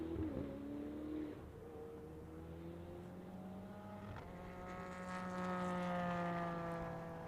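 An Audi V10 GT race car in an Ultimate GT Sprint Cup race at MotorLand Aragon sings along the back straight toward turn 16, its engine note rising and sweeping past, loudening and brightening as it draws near, with no talk over it.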